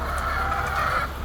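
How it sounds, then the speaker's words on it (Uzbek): Chickens cluck at an egg-laying poultry farm housing about seven thousand hens, a steady close chorus of clucking filling the short moment with no talk over it. "bu yerda 7000 taga yaqin tovuq"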